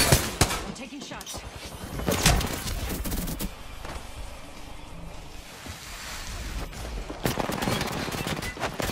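Rapid bursts of video game gunfire crackle in irregular volleys, fairly loud and dense, with a voice talking over parts of the exchange.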